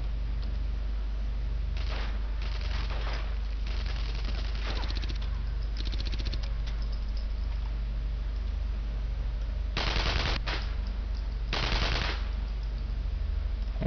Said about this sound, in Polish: Kto teraz kurwa do mnie strzela?